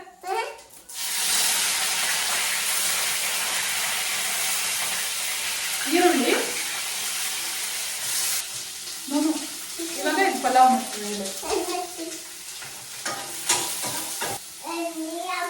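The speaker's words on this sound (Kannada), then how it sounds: "ಒಂದು ಕರ್ಬೇವಿನ ಸೊಪ್ಪು ಹಾಕೋತಾ ಇದ್ದೀನಿ ಆ ಕಡೆ ಹೋಗಮ್ಮ ಹಾರತ್ತೆ" Curry leaves drop into hot oil for a savoury dish and burst into a loud, steady sputtering hiss that later thins into uneven crackles. Stirring and scattered voices are heard over it.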